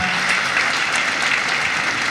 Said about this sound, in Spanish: Por favor, les pido que le deis un aplauso de bienvenida a esta su casa